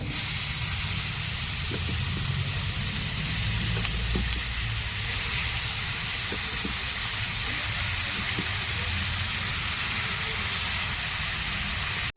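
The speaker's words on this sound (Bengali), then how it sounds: "আমি চাটু বসিয়ে দিয়েছি ওর মধ্যে তেল দিয়েছি তেলটা গরম হয়ে গেছে এখন এটাকে দেখো আমি আস্তে আস্তে সাজিয়ে দেবো" Taro stolon (kochur loti) mixture sizzles steadily in hot oil on an iron griddle, a dense continuous frying hiss with faint low clinks and scrapes underneath, no talking.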